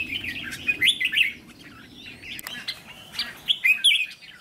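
Two Vietnamese decoy songbirds kept for fighting trials chirp and sing in bright bursts at close range. The chattering runs in irregular phrases with short gaps, and no one speaks.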